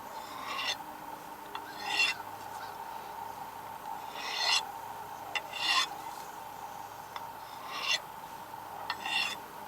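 A Caine Survival Tool knife is back-beveled with a few light sharpening passes, each one a brief, fairly faint rasping scrape, spaced a second or two apart against a quiet background.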